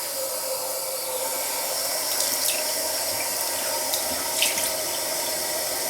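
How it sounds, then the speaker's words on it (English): A bathroom sink tap runs steadily, water splashing into the basin with a constant hiss and small splashes from hands, close and alone without talk. "I'm going to rinse my face off next."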